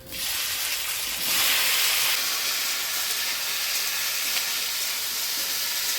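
Cut potato, eggplant and vegetable stalks drop into hot oil tempered with dried red chilli and whole cumin, raising a loud, steady, close sizzle that swells after a second and then holds as a continuous hiss.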